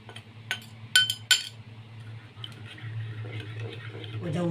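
A spoon mixes salt, cumin and chili in a bowl for a grilled fish dish, making a few sharp clinks early, then softer scraping and stirring under low background sound.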